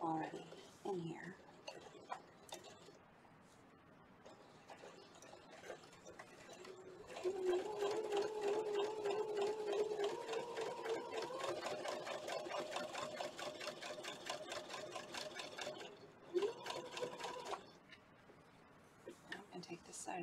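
A sewing machine runs steadily for about ten seconds, stitching back over existing seams on a towel strap, with a person talking faintly before and after the run.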